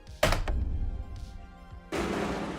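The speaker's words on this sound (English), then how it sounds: "The sound of your boot against the metal explodes in the quiet night like a gunshot" A boot kicks a metal garbage can on a quiet night in the game Blackout: The Darkest Night, giving one sharp, loud, close bang with a short ring, followed later by a sustained noisy burst.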